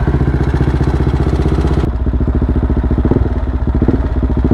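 A motorbike engine runs steadily and loudly up close, with a rough, uneven idle that sputters and stumbles in places, continuous throughout with no talk over it.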